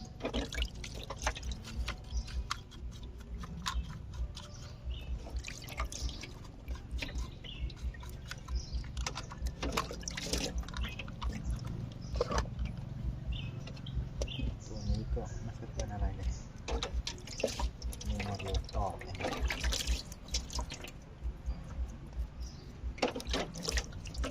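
Water splashes and trickles steadily while a bicycle is washed, a continuous close wet wash with drips, under intermittent speech.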